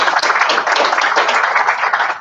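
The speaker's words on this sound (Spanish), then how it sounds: "Las recibimos con un fuerte aplauso." Loud, dense applause from an audience welcoming speakers at an education event, many hands clapping steadily and close for the whole stretch without voices.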